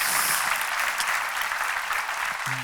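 An audience at a spoken talk or sermon claps in a steady, dense wash of applause, fairly close and moderately loud, holding even throughout without voices.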